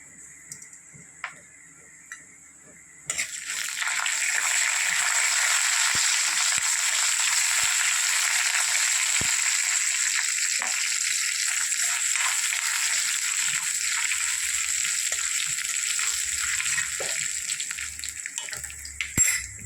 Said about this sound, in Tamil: கொஞ்சமாக கடுகு போட்டுக்கிறேன். 2 காஞ்ச மிளகாய் போட்டுக்கிறேன். கொஞ்சம் உளுந்தம்பருப்பு போட்டுக்கிறேன்.